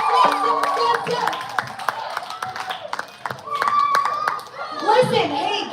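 Audience clapping and cheering for a group of dancing moms at a charity dance event, scattered hand claps mixed with children's voices and loud chatter, close and lively.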